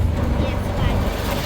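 An auto rickshaw ride sounds as a close, continuous engine drone and road rumble, dense and unbroken throughout.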